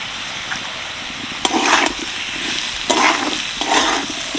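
Mung dal stirred in hot oil with ground cumin and spices, a soft continuous frying hiss punctuated by three or four scraping bursts as the spoon moves through the pan.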